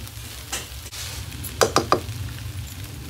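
Tomatoes cooking in a pan, with a faint continuous sizzle and a quick run of three bright clinks from a utensil in the middle, close and without speech.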